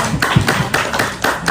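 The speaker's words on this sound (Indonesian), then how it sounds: "Tepuk tangannya dong buat Bapak Ketua ini." Applause for a chairman at a gathering, a short burst of several sharp, close claps in an uneven rhythm.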